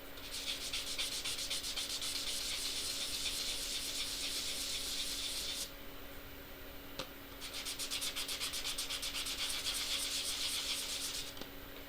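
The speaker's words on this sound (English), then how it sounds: "I'm gonna try to sand the surface of this as well" A sanding pad rubs briskly over the surface of a 22 gauge copper piece in rapid, steady strokes, close and fairly loud, with a short pause midway before the scraping rhythm resumes.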